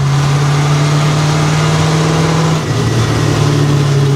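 A 1979 Ford C8000 truck engine running loud and close, a steady low drone with a slight dip in the middle, alone without talk.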